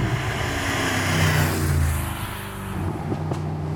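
A Mercedes SLS AMG Roadster with a naturally aspirated engine rumbles steadily up close, its low throaty drone rising and falling slightly as it is driven, with no talking over it.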